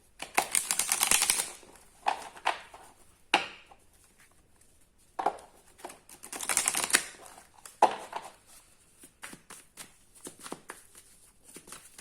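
Tarot cards being shuffled in several quick papery bursts, with short riffling flurries separated by quieter pauses, close and moderately loud.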